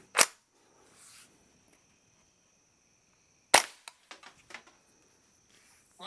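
An integrally suppressed Ruger 10/22 rimfire rifle fires twice, each shot a soft, short crack, the second followed by a quick scatter of small ticks as the bullet strikes dirt, with quiet gaps between.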